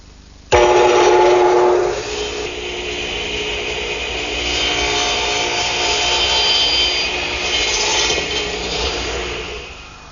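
A table saw starts abruptly and cuts through a wooden plant stand leg. Its loud, steady whine holds for several seconds, and the tone shifts slightly as the blade works through the wood. No one speaks.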